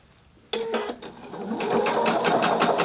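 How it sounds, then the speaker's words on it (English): Sewing machine stitching in the ditch along a jacket sleeve slit, starting abruptly after a quiet moment and then running as a steady, close, rapid mechanical whir with rhythmic needle clatter. "So again, I'm just stitching all along there."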